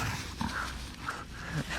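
A dog growls and snorts in short rough bursts while tearing around during a bout of zoomies, close by and moderately loud, with no talking over it.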